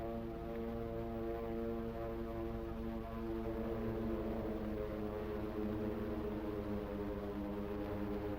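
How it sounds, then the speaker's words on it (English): Steady, sustained droning hum of propeller aircraft over the Pacific near Honolulu on the morning of the Pearl Harbor attack, continuous and even in level throughout with no pauses. "the drone of planes was faintly heard"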